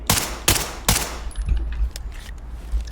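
Gunfire in the tactical shooter game Ready Or Not, three quick loud shots in succession followed by softer scattered impacts and clatter, no voices.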